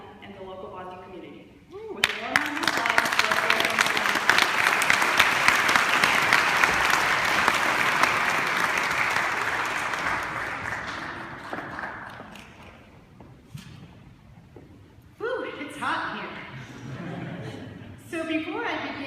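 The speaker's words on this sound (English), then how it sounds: "With a warm round of applause for" Warm audience applause fills a hall, a sustained dense round of clapping that swells quickly, holds for several seconds and fades, after which a woman begins addressing the crowd at a Bosnian genocide remembrance event.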